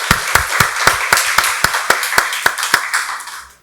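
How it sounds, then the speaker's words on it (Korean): A church congregation claps in an even, rhythmic beat, with about a dozen sharp, loud, unison claps that fade out as the applause ends. "박수로 하나님께 영광 돌리겠습니다"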